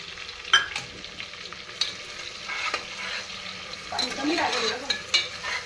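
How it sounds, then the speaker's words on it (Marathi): Onion, tomato and whole spices stirred and sautéing in a pan, with soft sizzling, scraping of a spoon and occasional clinks of utensils, fairly close. "कांदा टमाटा आणि खडे मसाले परतून झाले"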